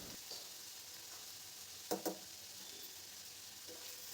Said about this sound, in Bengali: দেখো 1 মিনিট মতন ভেজে নিয়েছি। এবার এর মধ্যে আমি হলুদ আর লবণ দিলাম।